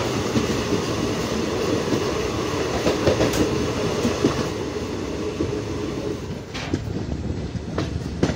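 Onboard the Nandigram Express, a steady loud rumble of the train running over track fills the whole stretch, with sharper clanks and wheel clatter toward the end.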